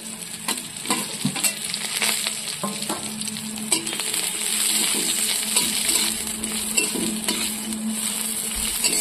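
Fried lata fish dropped into a hot pan with crushed garlic, a steady close sizzle with scattered metallic clinks and scrapes of stirring, no speech.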